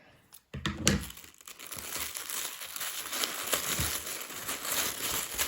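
Plastic packaging around a cross-stitch kit is cut and pulled open up close, a steady crinkling and rustling that starts after a brief quiet moment and carries on unbroken at a soft, even level.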